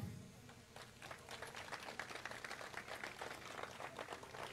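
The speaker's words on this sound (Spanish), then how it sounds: "Quiero que le brindemos un fuerte aplauso a nuestro primer invitado especial" Crowd applause at an event hall welcoming a special guest, a president-elect, with continuous clapping of moderate density heard at a distance and fairly quiet.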